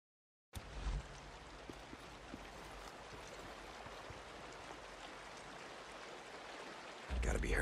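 Creek water flows in the Days Gone video game, a steady, fairly faint rushing wash that starts abruptly after a brief silence and swells louder near the end.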